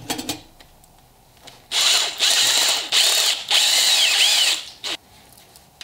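A power drill enlarges a hole for a ground clamp, running in several loud close bursts of a few seconds each, with short pauses between, alone without talk.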